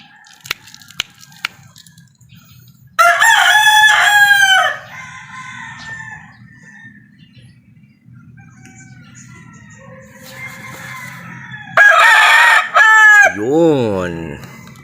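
Rooster crowing loudly and close, two long crows several seconds apart among soft clucks and faint background hum, with a brief squawk at the end.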